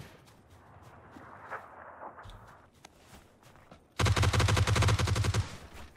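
A G36 rifle in PUBG fires a rapid, loud burst of automatic shots lasting about two seconds, preceded by quieter footsteps and faint shuffling.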